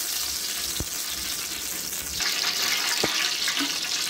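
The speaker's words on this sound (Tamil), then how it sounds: "இப்போ நம்ம அதுக்கு ஒரு 300 கிராம் எண்ணெய் சேர்த்துக்கலாம்" Roughly 300 grams of oil poured into a cooking pot while making thalcha, a soft continuous splashing hiss with a couple of small clinks, heard close up and without talk.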